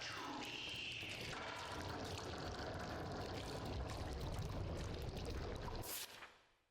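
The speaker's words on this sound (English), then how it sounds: "The ink drips, darkness spread through the studio." Dark, pouring ink dripping and trickling through a studio in the horror game Bendy and the Dark Revival, a steady liquid stream with low rumble that continues for about six seconds before cutting off and fading.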